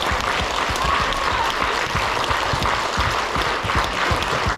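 A hall audience claps for one another, a full steady round of applause with sharp individual claps standing out close by, ending abruptly.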